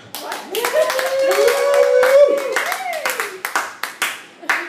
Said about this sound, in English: Let's hear some clapping.